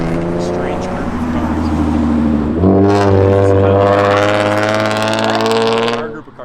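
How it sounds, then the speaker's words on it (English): A car's exhaust with a note like a Nissan VQ engine, heard close and loud as a strong, buzzy drone that jumps up in pitch about halfway through, holds, then cuts off. "That exhaust. Sounded like a VQ almost."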